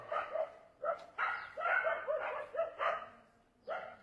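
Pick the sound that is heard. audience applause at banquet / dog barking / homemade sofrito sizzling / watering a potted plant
dog barking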